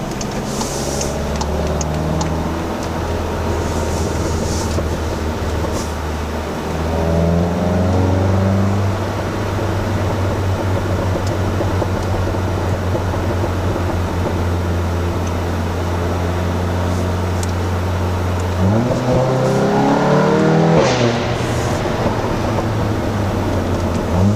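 A Volkswagen Golf GTI Clubsport engine with the resonator deleted hums steadily from inside the cabin, windows down, with road noise and wind, then revs up sharply toward the end.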